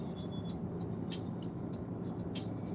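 Low, steady road rumble inside a moving car, with a faint, regular ticking repeating several times over the rumble.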